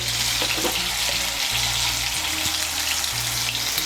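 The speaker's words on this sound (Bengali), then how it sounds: "মিশিয়ে নিয়ে আলুটাকে লাল করে ভেজে নেব" Potato pieces seasoned with salt and turmeric frying in oil, a steady close broadband sizzle running throughout with a low hum beneath and no talk.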